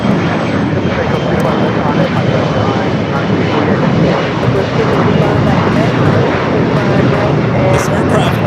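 A large airliner at Los Angeles LAX airport roars loudly and steadily, a broad continuous engine rumble close by that holds without a break.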